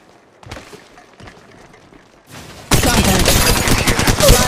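Burst of rapid gunfire in the mobile battle royale game Apex Legends Mobile, starting after quieter footsteps and movement, then sustained loud automatic fire with dense repeated shots to the end.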